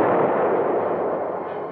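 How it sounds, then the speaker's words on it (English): Heavy tank and anti-tank gunfire in combat involving M60 Patton tanks in 1966 US Army footage, a loud dense rumbling roar that stays sustained and slowly fades across the short stretch. "the tanks meet heavy fire from enemy tanks"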